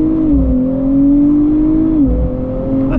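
A 2024 Nissan Z Nismo in Sport Plus mode accelerates onto a highway, its engine note rising steadily, easing, then climbing again through a gear change, loud from inside the cabin with no talking.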